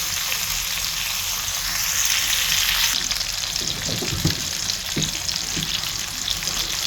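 Chicken thighs sear in a hot pan with a steady bright sizzle, broken near the end by a few clattering bumps as pieces are moved and flipped, with no talk.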